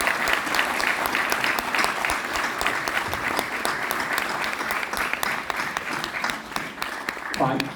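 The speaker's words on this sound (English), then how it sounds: "So please welcome the authors with a big applause." An indoor audience at a literature evening at the India Habitat Centre in New Delhi claps loudly and continuously to welcome the authors. The dense applause carries on for several seconds, and a short voice rises at the end.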